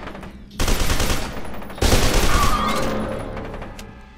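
Rapid gunfire from a firefight in the shooter game FEAR 2, two dense bursts of loud automatic shots, the second heavier and trailing off into a lingering rumble.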